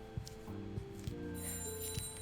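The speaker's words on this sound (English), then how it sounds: "She just rang the bell." A pet dog rings a small bell at home, a few distinct bright dings spaced apart over a faint tonal background.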